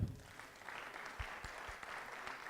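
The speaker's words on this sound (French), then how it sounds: "on peut applaudir" Congregation applauding at an evangelical pastors' gathering in France, a dense, steady wash of clapping that carries on through the whole moment without a break.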